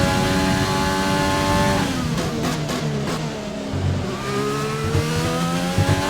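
Renault race car engine in a racing video game, revving hard with rising and falling harmonic pitch sweeps, loud and continuous, with brief gear-shift dips and no talk.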